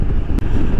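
Royal Enfield Himalayan motorcycle engine thumping along on the road, a continuous low, close rumble mixed with heavy wind noise and a brief dropout midway.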